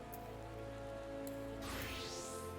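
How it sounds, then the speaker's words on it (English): Steady rain falls in Gridania in the Final Fantasy XIV video game, a soft, continuous patter over a low game ambience. A brief swooping effect rises near the end. "It is raining in Gridania."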